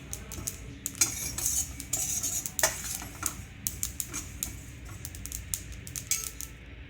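Sesame seeds roasting in an already hot pan, stirred with a spoon that clinks and scrapes against the metal in quick, irregular bursts, close and fairly quiet over a faint crackle, no voices.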